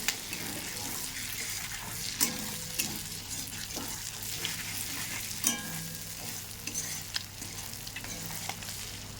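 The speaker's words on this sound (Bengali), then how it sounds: "চিংড়ি মাছগুলো লাল লাল করে ভেজে নেব।" Prawns frying in oil in a kadai for a Bengali curry, a steady broadband sizzle with occasional sharp spatters and utensil clinks, close and continuous without any speech.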